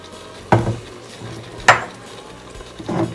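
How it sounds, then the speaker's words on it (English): Frozen vegetables are added to a pan and stirred. There are three separate clattering knocks of a utensil against the pan over a faint low sizzle, close and fairly loud, with no voices. "I'm going to add those veggies together, just like that."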